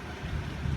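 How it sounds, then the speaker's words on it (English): Steady rain pouring outside on a wet day, with water flooding a backyard in Sherman, Texas; a dense, even hiss of falling drops with no voices. "It is a fucking rainy day outside, and my backyard is fucking flooding."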